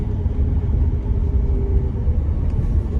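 Car engine droning steadily during driving practice on an uphill road, a loud, close, low rumble with a constant hum and no clear revving.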